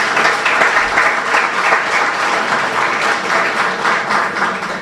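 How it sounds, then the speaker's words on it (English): Loud, dense applause from an audience welcoming home returning athletes, a continuous roar of many hands clapping at close range with no talking. "I want to start by you giving yourself a big round of applause for representing us well"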